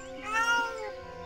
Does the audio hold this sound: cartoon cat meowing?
yes